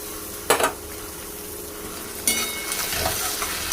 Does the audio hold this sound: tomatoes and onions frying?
yes